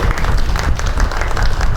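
Steady applause from an audience at an evening Gujarati lecture, dense and even clapping held at a constant level throughout with no talk over it.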